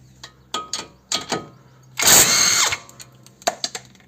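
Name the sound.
power tool removing Seat León suspension ball joint bolts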